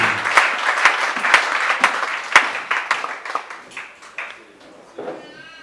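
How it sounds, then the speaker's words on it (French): A church congregation claps and applauds in a worship service, a burst of loud, rhythmic clapping that gradually thins out and fades over several seconds, with no speech over it. "Acclamons pour la gloire de Dieu."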